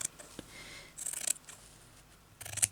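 Scissors snip through fabric during crazy patchwork sewing, two short bursts of crisp cutting, close and fairly quiet, with small handling ticks between them.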